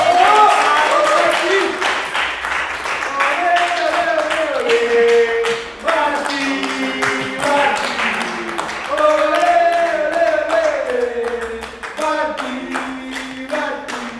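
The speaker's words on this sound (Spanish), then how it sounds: "un aplauso por favor" Studio audience clapping for guest Marcelo Barticciotto at the end of a TV interview, rhythmic hand claps running under a sung or chanted melody that carries throughout.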